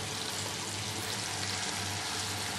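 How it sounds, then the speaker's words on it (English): Baby corn pieces frying in hot oil over a medium flame, a dense, continuous sizzle that holds steady and close throughout with no talk. "Gently place each piece of baby corn in hot oil."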